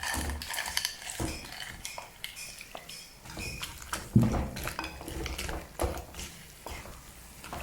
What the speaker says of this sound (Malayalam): അപ്പോൾ നമുക്ക് ഞണ്ട് ഇതിനകത്തോട് ചേർത്ത് കൊടുക്കാം